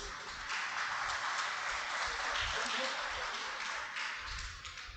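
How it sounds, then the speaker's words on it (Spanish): An audience at a business forum inauguration gives a sustained wash of applause, even and continuous, heard from a distance and fairly faint. "un aplauso, por favor"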